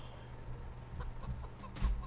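Chickens in a coop in the Project Zomboid video game, a few soft, short clucks at moderate distance over a low steady background hum.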